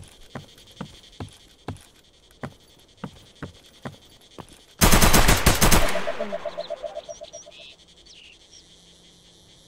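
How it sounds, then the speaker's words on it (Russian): Gunfire in the STALKER shooter game rings out as a sudden loud burst of rapid automatic shots that fades into echo, after a string of evenly spaced ticking footstep-like sounds over a night ambience of crickets and frogs. "А кто шмалял сейчас, я не понял"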